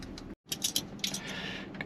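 Keys jangle briefly while unlocking a gate on a rural bush property, a few light metallic clinks close by, quiet and short with no talking.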